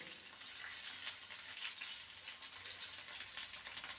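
Bitter gourd slices fry in a pan with a soft, continuous sizzle and crackle, steady and fairly quiet throughout with no talking.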